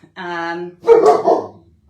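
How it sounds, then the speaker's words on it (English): A dog barks in a short close burst of several loud barks, with a voice-like tone just before. "Sorry about the dog barking."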